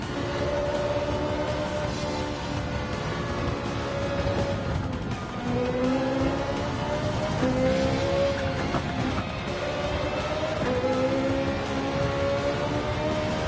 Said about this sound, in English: Listen to the throttle here. Listen to it, it's still going, always going.